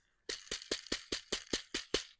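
Nine quick dry rattling bursts in a steady rhythm, close up, as seeds are shaken inside a ripe dried luffa gourd, with no voices.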